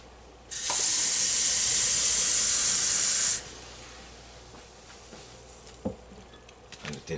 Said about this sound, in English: with a cup of water